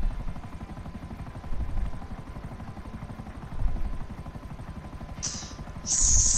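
Helicopter in a video game, a steady low rotor chop throbbing through the whole stretch, with a few heavier thumps and a brief high hiss near the end.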